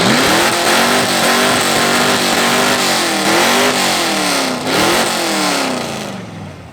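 Loud muscle-car exhaust revving hard at an exhaust competition, with repeated rising and falling engine pitch sweeps over several seconds, close and continuous, easing off at the end.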